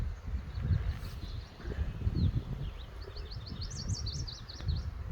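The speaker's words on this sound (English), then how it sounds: "You got birds chirping." Small birds chirp in short, repeated high calls on an open Appalachian Trail mountain bald, fairly faint and distant over a low rumble of wind across the grass.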